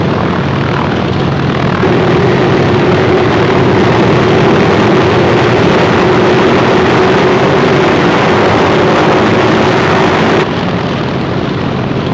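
Loud, continuous roar of C-47 transport planes' propeller engines taking off, a steady droning tone filling the whole stretch without pause or voices.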